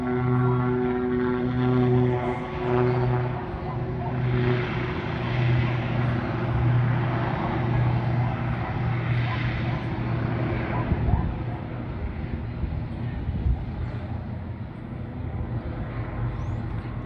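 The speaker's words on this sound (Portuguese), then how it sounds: "Mas vamos lá então para a decolagem." A small propeller airplane's engine drones steadily and rises in pitch as it powers up for takeoff at Sorocaba Airport, with a person talking over the noise.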